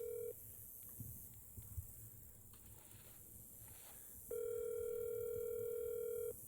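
An outgoing phone call plays its ringback tone, a steady electronic beep heard briefly at the start and again as a long two-second ring later, with quiet, faint background between.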